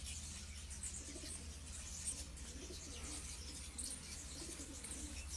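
A pigeon, an old prized flying bird kept since 2017 in a Sheikhupura loft, coos softly and intermittently over a steady low background hum, faint and somewhat distant.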